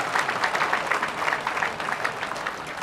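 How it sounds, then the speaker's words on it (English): An audience at a Caltech commencement claps in a brief, brisk burst of applause, many hands at once with a slightly uneven pulse, no voices over it. "I want a little applause now."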